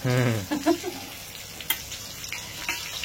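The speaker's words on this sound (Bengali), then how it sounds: "এবার এর মধ্যে ফোড়ন দিচ্ছি গোটা গরম মশলা, ছোট এলাচ, দারচিনি আর 3টে কুচকি কুচকি তেজপাতা" Whole garam masala with small cardamom, cinnamon and bay leaves crackling in hot oil, a soft fizzing sizzle with scattered light pops, following a brief burst of voice at the start.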